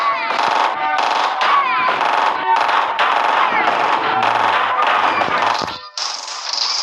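Machine gun fire in the video game Age of War 2, long loud bursts of rapid shots with brief gaps, ending in a sharper higher-pitched blast, with no talking.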